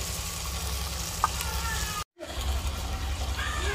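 Onion with ginger garlic paste fries in a pan for a village-style spinach and mutton liver dish, a steady close sizzle broken by one brief silent cut before resuming.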